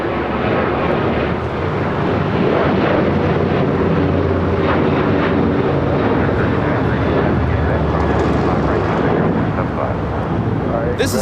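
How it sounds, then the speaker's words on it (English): An American Airlines Boeing 737-800 takes off from LAX, its jet roar loud and sustained throughout, with a steady broadband rumble and faint wind buffeting on the microphone. "This is American Airlines 2674 taking off to Indianapolis on a 737-800"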